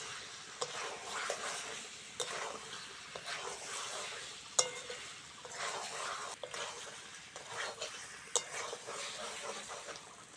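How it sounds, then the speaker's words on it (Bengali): Fried potatoes being stirred into chicken curry cooking in a pan, with a steady sizzle and repeated scraping stir strokes, close and fairly quiet, no talk. "এইবার ভেজে রাখা আলুগুলো দিয়ে দেবো"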